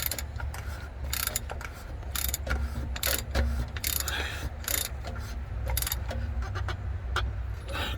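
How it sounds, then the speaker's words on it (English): Ratcheting clicks and mechanical clatter from a hand tool tightening a bolt on a BMW X5 during an oil change, quick repeated ratchet bursts close by over a low rumbling background. "from there you can use your tool to tighten it up"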